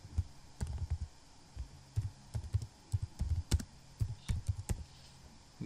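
Rapid clacking keystrokes on a computer keyboard, irregular bursts of close, crisp taps with short pauses between, fairly quiet and alone.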